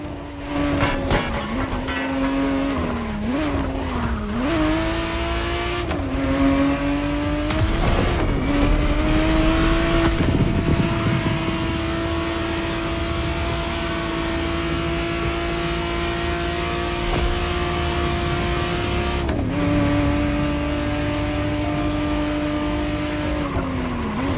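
A 1991 Ferrari 512 TR, the re-engineered Testarossa, revs in The Crew Motorfest racing game. A loud, continuous engine drone rises and falls in pitch through gear changes, with tire noise beneath and no voices.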